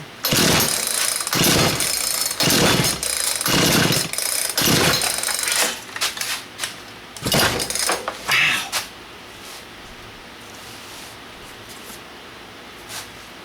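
Engine of a Craftsman 16-inch chainsaw pulled from a junk pile, revving in loud repeated bursts that fall back toward a low idle, then fading to near silence with a few faint knocks.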